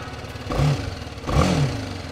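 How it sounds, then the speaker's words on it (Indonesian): BMW G310GS motorcycle with a 300 cc single-cylinder engine, two short revving bursts about a second apart over a steady running engine, close and fairly loud. "Suaranya lembut, halus, khas mesin 300 cc 1 silinder."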